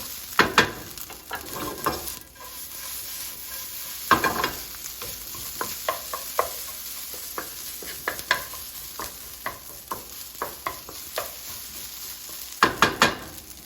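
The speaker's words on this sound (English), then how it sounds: "Cook it until you smell the good smell of the rice" Rice frying in a pan for tomato chicken rice omelette, stirred with a steady low sizzle under repeated close scrapes and clacks of a utensil, a few louder bursts of stirring, no voices.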